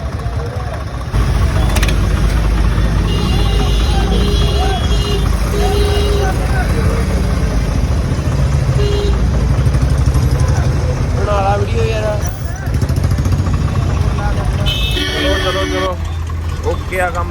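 A jammed road packed with idling engines and vehicles crawling in heavy traffic on a hot day, a dense continuous roar with horn-like tones breaking through and people talking over it.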